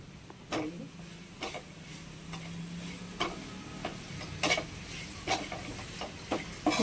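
A spoon stirs a jaggery and coconut modak filling cooking in a pan, giving a soft sizzle with regular scraping strokes against the metal, roughly one each second.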